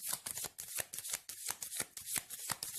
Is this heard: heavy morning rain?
no